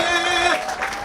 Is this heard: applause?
yes